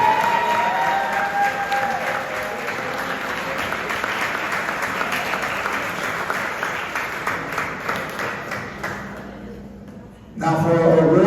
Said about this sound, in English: Please give them a round of applause over there.